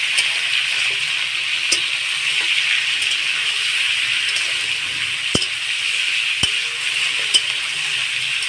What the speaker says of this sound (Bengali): চিকেনগুলো একটুখানি ভাজা ভাজা হবে।